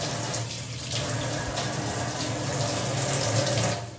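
Water pours steadily onto a money plant sapling, a close, continuous splashing gush that tapers off at the end, with no voices.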